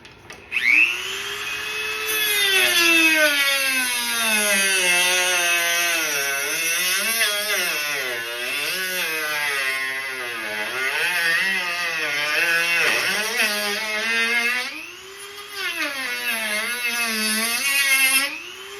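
A Dremel rotary tool cuts into a 2015-2023 Harley-Davidson Road Glide fairing, a loud close high whine whose pitch dips and wavers as the bit bites and frees up, running almost continuously with a brief rev near the end.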